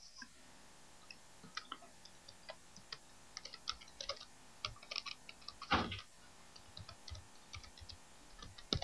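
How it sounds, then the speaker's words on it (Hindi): Someone types on a computer keyboard while entering text in AutoCAD, a quiet, uneven patter of key clicks with occasional louder presses and a heavier thump near the middle, and no one speaking. "तो मैं इधर टाइप कर देता हूं,"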